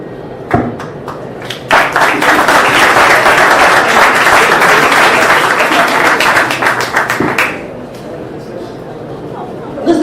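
A book-fair presentation audience at FILBA 2018 breaks into loud, dense applause that swells after a brief opening clap, holds steady for several seconds, then tapers off into scattered claps.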